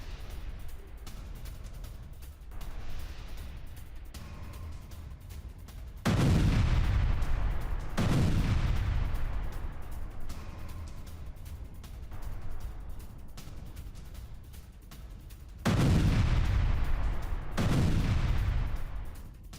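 Heavy explosions and gunfire from an IDF rocket launcher attack on fighters in Rafah, Gaza, with three booming blasts that roll and decay over sustained crackling fire, set against a continuous rumbling battle backdrop.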